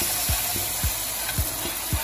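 A spoon stirs shrimp in creamy Alfredo sauce in a pan, with a steady sizzle under soft, evenly spaced scraping strokes.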